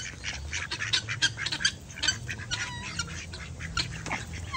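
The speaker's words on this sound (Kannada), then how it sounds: "ಇನ್ನು ಮಿಕ್ಕಿದ್ದೆಲ್ಲ ಬಾತುಕೋಳಿ" Ducks quacking close by, a busy run of repeated loud quacks and squawks overlapping in an uneven rhythm, with faint low background noise underneath.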